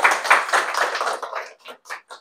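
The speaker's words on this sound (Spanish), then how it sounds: "recibamos con un fuerte aplauso a la licenciada Domínguez" Audience applause welcoming a speaker to a university lecture, a dense burst of clapping that thins into a few scattered claps before fading out.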